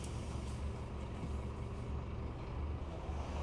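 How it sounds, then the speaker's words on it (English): A lorry rumbles past on the road with steady low engine and tyre noise, fairly close and continuous, and no talking over it. "There's that lorry."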